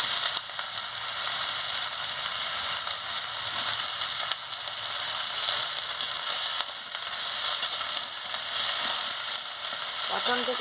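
Pumpkin stalks frying in a pan give off a steady, close sizzle that runs unbroken for the whole stretch, with faint stirring clatter near the end.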